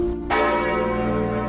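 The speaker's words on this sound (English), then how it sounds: "Only the wind and distant bells carried the memory of the fallen." Church bells ring in the distance, one strong struck tone blooming out and sustaining with a long shimmering decay, no voices present.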